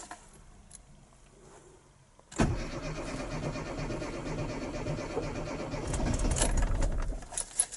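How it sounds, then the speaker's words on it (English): A Mini Thirty's engine cranks softly for a couple of seconds, then catches and roars into a steady rough idle, close and loud, rising slightly toward the end with no talk over it. "Let's see how many turns it takes to start it."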